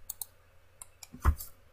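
Several light mouse clicks come while lines are trimmed in AutoCAD, quiet and irregular, with one sharper, louder click near the end.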